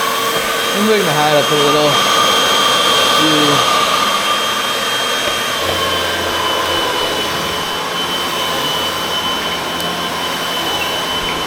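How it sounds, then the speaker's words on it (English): A strong vacuum cleaner runs on a thin rug with a steady, loud whine and drone throughout, while a person talks over it. "Oh yeah, this vacuum is strong."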